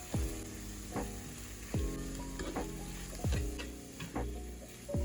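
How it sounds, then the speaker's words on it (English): Tofu scramble stirred in a frying pan, a constant sizzle broken by five or so regular spatula scrapes that ring against the pan, close up and with no talking. "And we're gonna stir that up and add more as needed."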